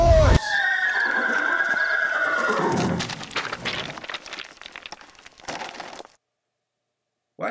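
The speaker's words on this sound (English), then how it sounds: "The horse!" A loud, close horse whinny with a falling, wavering pitch that lasts about three seconds, then tails off into softer rustling before going silent.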